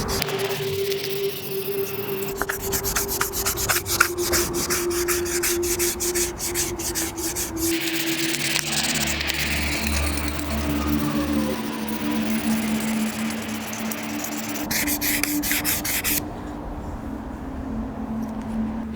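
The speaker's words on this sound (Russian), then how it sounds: "Полностью проходим весь пластик 800-м наждаком с водой." Wet 800-grit sandpaper rubs back and forth over a plastic interior door handle from a BMW X5, a steady close scrubbing that runs continuously with rhythmic strokes and no talking.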